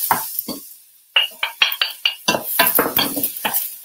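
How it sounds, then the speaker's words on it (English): Clatter and scraping of utensils in a hot pan, with bursts of sizzling frying as noodles are stirred, close and fairly loud. "Like the sound, sizzling."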